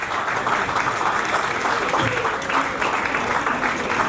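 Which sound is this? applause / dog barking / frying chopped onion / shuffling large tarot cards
applause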